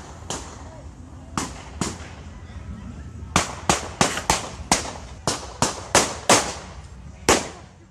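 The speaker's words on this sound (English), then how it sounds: "You can hear the gunshots being recorded as it's all happening." More than a dozen sharp gunshots ring out during a shooting at Shawnee Park, coming in irregular bursts: a few spaced shots first, then a rapid cluster of about ten loud cracks over ambient outdoor noise.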